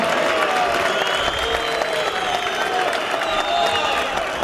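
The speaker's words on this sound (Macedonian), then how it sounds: "Не со свирежи, туку со аплауз да ги поздравиме судиите." A crowd at a 2019 final match applauds the referees, a continuous wash of clapping with a general crowd murmur beneath it.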